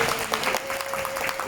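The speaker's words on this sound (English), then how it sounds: "another big hand of applause for Dr. Ashvin." Audience applause at an indoor health talk, a steady patter of many hands clapping close by, with a faint sustained tone running underneath.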